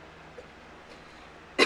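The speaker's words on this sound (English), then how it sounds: "I'm still coughing from being sick in June." A single abrupt cough bursts out near the end, close and loud, following quiet room tone from someone still recovering from an illness.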